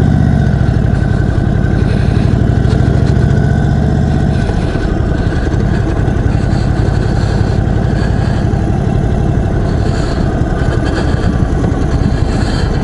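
A 2021 Indian Chief Dark Horse motorcycle's big long-stroke V-twin idles loud and close, a deep steady throbbing rumble that shifts slightly lower partway through and continues without talk.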